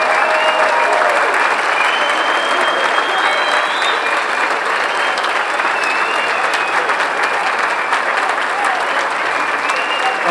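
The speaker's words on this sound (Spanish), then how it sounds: "queremos un minuto de aplauso" A crowd at a tribute concert gives a minute of applause in memory of musicians, with dense, sustained clapping that stays loud and even from start to finish.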